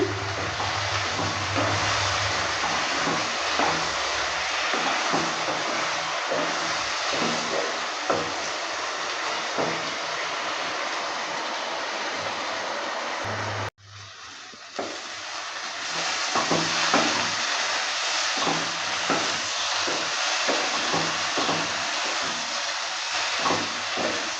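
Spices fry in a pan for green pea ghugni as water is added and stirred in, giving a steady loud sizzle with scraping stirs and a brief sharp drop and hiss when the water goes in.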